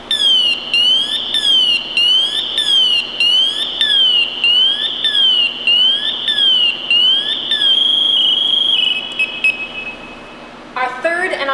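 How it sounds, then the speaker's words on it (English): A Scott air pack alarm in full alert mode sounds loud and close, a rapid repeating warbling beep that rises and falls in steady cycles, then shifts to a steady tone before a short burst of chirps at the end. "Our second check is to let it go all the way off into full alert mode"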